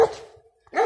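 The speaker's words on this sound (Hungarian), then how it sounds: "Ott valami ugat." A dog barks in the distance on an evening walk home, a couple of short barks separated by a quiet gap, faint and far off.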